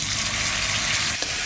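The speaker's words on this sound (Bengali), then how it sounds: "তেজপাতা, জিরে, জিরে ধনে বাটাটা তেলের উপর দিয়ে দেবো" Bay leaf with a ground cumin and coriander paste frying in hot oil: a loud, steady, close sizzle with a brief spatter burst near the end, no voices.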